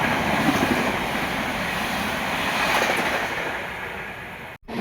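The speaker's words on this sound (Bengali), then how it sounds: "এই লাইন দিয়ে কিন্তু অনেকেই থ্রু ট্রেন পাস হয়" A through train passes a station at speed, a loud, continuous roar and rumble of wheels and carriages close by, with no voices, ending in an abrupt cut.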